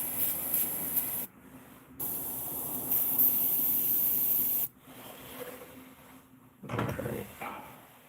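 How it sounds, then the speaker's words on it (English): An airbrush sprays heavy coats of paint for koi fish patterns, giving a close, steady hiss in several bursts of a second or more, separated by short quiet gaps where the trigger is released. "I am spraying heavy coats on purpose right now"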